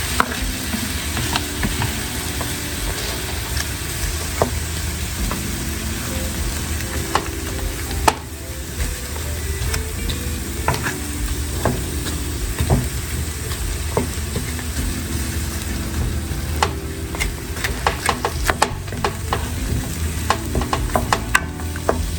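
A chopped yellow onion sizzles steadily in a pan while a utensil stirs and scrapes it, with repeated clanks and scrapes over a constant loud frying hiss, close up and without speech.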